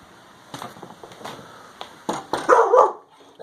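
A dog barks several times in short, sharp bursts, some yipping and whimpering between them, up close and growing louder toward a final cluster of barks, with no one talking.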